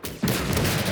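An 80mm mortar firing a shell in Call to Arms: Gates of Hell, a single loud blast after a brief lull, followed by a rumbling tail.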